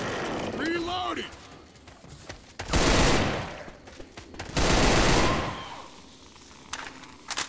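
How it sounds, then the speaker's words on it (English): A full-auto shotgun in Left 4 Dead 2 fires in two loud, dense bursts of rapid shots, each lasting about a second and a half, with game voices calling out before and between them. "Full auto shotgun."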